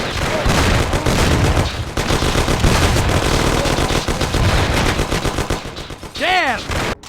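Heavy gunfire rattles through a shootout in the Mafia 1 video game set in the City of Lost Heaven, dense bursts of automatic and rifle shots filling the scene loudly and continuously, with a brief sweeping whine near the end.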